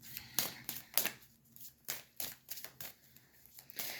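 A deck of cards being shuffled by hand up close, a series of quick riffling bursts and soft flicks in an uneven rhythm, fairly quiet, with no speech.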